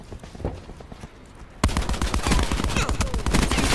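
Gunfire rattles in Call of Duty Black Ops 4 on the Slums map during a Domination match, a sudden loud run of rapid shots that starts midway and keeps firing over game ambience.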